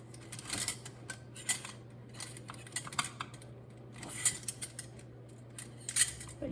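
Scissors snip string in a kitchen during cottage cheese making from raw milk, a series of sharp, close, crisp cuts in uneven rhythm over a low steady hum, no voices.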